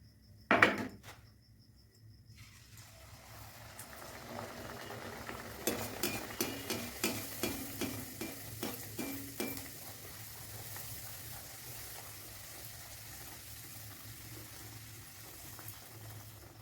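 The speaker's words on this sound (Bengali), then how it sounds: "এখানে কড়াইতে তেল দিয়ে দিয়েছি, তেল গরম হয়ে গিয়েছে। এবার আমি একে একে লুচিগুলো সব ভেজে নেব।" Luchi deep-fry in hot oil in a kadai. A sharp clatter comes first, then a quick run of light taps, then a steady, soft sizzling hiss that holds to the end.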